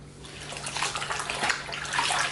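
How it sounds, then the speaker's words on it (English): Water sloshing and splashing as cross stitch fabric is rinsed by hand in a sink full of cool water, a continuous close, busy churning of water with a low steady hum underneath. "Sorry for the water sloshing noise."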